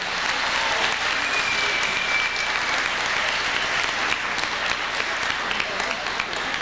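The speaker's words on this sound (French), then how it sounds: "s'il vous plaît, une bonne main d'applaudissements" Sustained audience applause for the directors at a country barbecue in St-Anselme, a dense, even wash of clapping from a sizable crowd with faint voices underneath.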